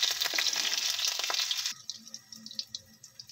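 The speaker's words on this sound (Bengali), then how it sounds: "দিয়ে এবার আমি একটু নাড়াচাড়া করে নিচ্ছি" Green chilies and grated ginger hiss in hot oil in a pan, a loud steady sizzle for a second and a half, then sudden quieter scattered crackles and spatters as the stirring settles.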